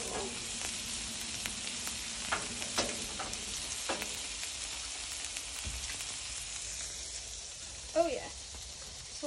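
Smash burgers sizzling on a grill, a steady hissing sizzle at moderate level with occasional clicks and scrapes of a spatula, and a brief voice near the end.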